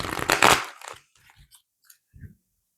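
Shuffling of a Modern Witch Tarot deck, a loud close burst of riffling cards followed by a few softer scattered taps and rustles, then near silence.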